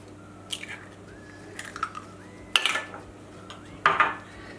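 Metal whisk knocks and scrapes against a bowl while beating flour and eggs, a few scattered clinks and bursts of mixing, fairly faint, with no voices.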